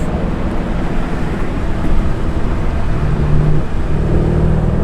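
A Mercedes-AMG C63 W204 car engine rumbles loud and steady, with dense low-end roar and a few surges in level, close up with wind-like broadband noise and no speech.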